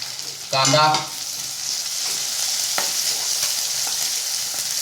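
Onion frying in a pan with garlic, cumin and curry leaves gives off a steady, close sizzle, with a short burst of sharper clatter early on and faint stirring taps after.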